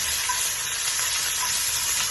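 Potatoes sautéing in oil, a dense, steady, bright hiss of frying that stays even and close throughout the short stretch, with no voices.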